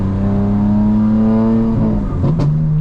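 A BMW M4 Competition xDrive idles loudly up close with a steady, deep exhaust hum, then the pitch dips and settles with a brief crackle as the burble setting kicks in.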